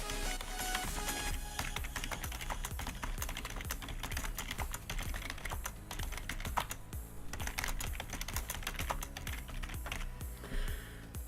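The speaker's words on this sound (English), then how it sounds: "hopefully you'll do a better job of typing than me as well" Rapid clicking of a computer keyboard as a comment is typed, with dense, continuous keystrokes that are close and clear for about eleven seconds, with no talking.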